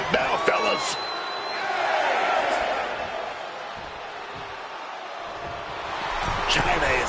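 A wrestling arena crowd at WCW World War 3 roars and cheers, swelling and fading in waves with whoops and shouts, while a commentator talks over the noise.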